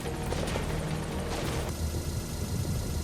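A helicopter in the video game Metal Gear Solid V makes a loud, close, rumbling rotor chop with dense mechanical roar, shifting in tone partway through, with no one speaking over it.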